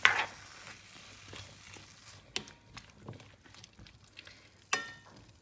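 Tomatoes sizzle in a frying pan for peri peri chicken, a soft steady crackle with occasional scraping knocks from stirring, fairly quiet and close.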